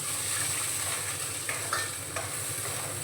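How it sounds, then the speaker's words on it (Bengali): Garlic paste frying with spices in a pan for a snail masala, giving a close, steady sizzle with a few soft stirring scrapes, brief and without talk. "রসুনটাকে মশলার সঙ্গে ভেজে নেব ভালো করে"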